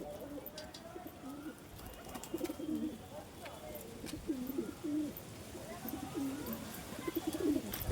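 Pigeons cooing in a loft, with several rolling, rhythmic coos repeating close by over a quiet background, as people speak now and then.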